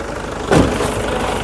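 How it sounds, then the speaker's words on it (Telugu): A 2009 Toyota Innova 2.4 G diesel engine runs at idle close by, a steady loud rumble with one brief surge partway through. "ఇంజన్ నాయిస్ కూడా ఇంజన్ నాయిస్ కూడా పర్ఫెక్ట్గా అయితే ఉందండి"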